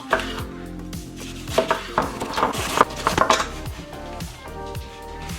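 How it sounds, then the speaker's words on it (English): A knife thinly slices red cabbage on a board, giving a steady run of crisp chopping strokes, close and clear, that speed up briefly in the middle and then taper off. "I'm also going to thinly slice about half a cup of red cabbage."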